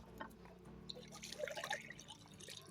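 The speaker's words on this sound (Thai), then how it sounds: "เรามากรอกน้ำตรงนี้ต่อเลยนะครับนี่ กรอกน้ำให้เต็มครับผมเหมือนเดิมแหละ" Water poured into a household water pump's priming port after replacing its foot valve, heard as soft trickling, dripping and gurgling splashes that come and go over a low steady hum.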